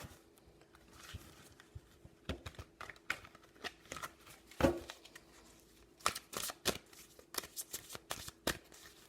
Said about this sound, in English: Let me mix these other oracle cards real quick.